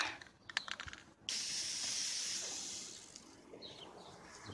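A spray bottle of vinegar hisses in a steady burst lasting a few seconds, preceded by a few faint clicks and followed by quieter outdoor background.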